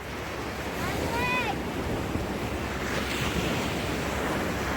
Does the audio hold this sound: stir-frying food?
no